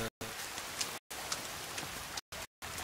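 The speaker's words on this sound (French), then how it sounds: "Ce qui est chiant, c'est qu'il pleut toujours autant" Steady rainfall in The Forest video game, a soft hissing patter of drops on surfaces, continuous and fairly quiet, broken by a few brief silent gaps.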